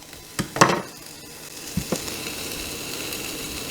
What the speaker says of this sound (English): I just threw the bacon into the pan just to kind of sear that up a little bit